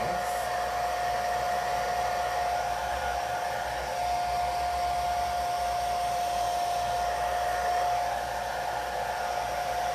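A hair dryer blows steadily and loudly for the whole stretch, a continuous close whoosh with a constant motor whine and no voices.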